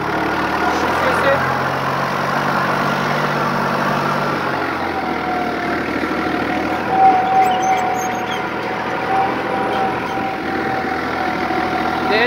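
A New Holland TD65S tractor engine runs steadily in fourth gear of the second range, a continuous mid-low mechanical drone with a slight rise in the middle, fairly close and holding an even level throughout.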